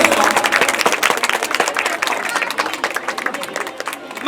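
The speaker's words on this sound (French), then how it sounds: "Sous vos applaudissements." Audience applause at a school end-of-year celebration, dense continuous clapping from a crowd throughout, fairly loud and steady with some voices mixed in.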